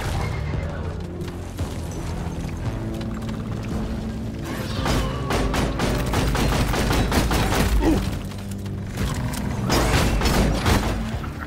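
Explosives go off in Deep Rock Galactic amid dense, continuous combat noise, with loud bursts of blasts and booms surging around the middle and again near the end.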